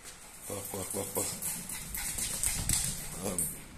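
An excited dog dashes about outdoors, quick scrabbling and patter with small whimpers close by, while a voice calls out over it.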